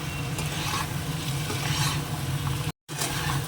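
Potatoes frying in a pan of red ground spice paste with chili powder, a continuous loud sizzle with faint stirring scrapes and one brief dropout near the end.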